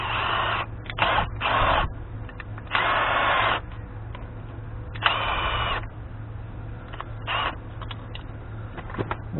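A bolt is spun in and out of the threads of a rear full-floating Dana 60 hub with solvent to clean them, giving a few short, close bursts of whirring and scraping over a steady background hum.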